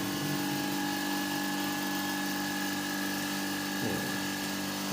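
A Kasame Power Whisper air compressor runs in a small room, giving off a steady, continuous motor hum and hiss at an even level, with no talk.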